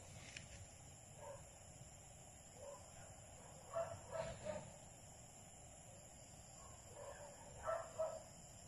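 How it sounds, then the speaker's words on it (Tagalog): Faint bird calls repeat over a steady high cricket drone outdoors at night, with distant fowl sounds coming in short bursts. "ang marinig mo yung mga tunog ng ibon, yan, mga kuliglig"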